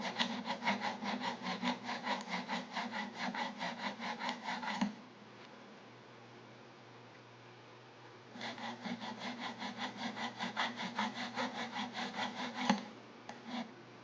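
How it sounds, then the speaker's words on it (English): A half-round hand file rasps in steady rhythmic strokes inside a ring band while resizing an emerald ring, a long run of filing, a pause of quiet, then another run of quick back-and-forth strokes, close by. "you can go in with your half round file and file out the inside now."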